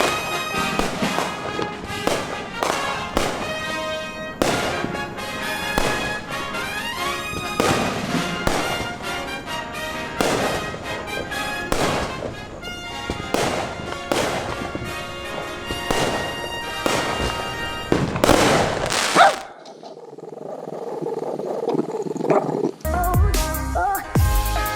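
Fourth of July fireworks burst in rapid, loud succession, sharp bangs piling over each other with crackling tails, then a brief lull before more booms.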